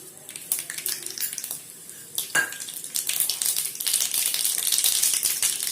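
Mustard seeds hit hot oil in a pan for banana-flower rice and set off a sizzle that swells into dense crackling and popping, with a sharp clink of a metal utensil early on.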